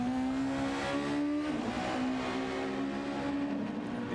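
Super Formula race cars in Gran Turismo 7 on PS5 at Watkins Glen, engines droning loud and continuous with a brief pitch dip and rise midway, no talking.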